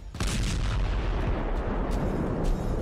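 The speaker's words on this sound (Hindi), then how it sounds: "ऐसे बारूदी सुरंग और ड्रोन हमलों में पुतिन को क्या नुकसान हो रहा है, वो अब धमाके वाले वीडियो देखिए" A drone or landmine strike explosion in Russia–Ukraine war footage erupts after a brief quiet start into a continuous heavy, booming roar laced with crackling debris-like bursts, loud and close throughout, without talk.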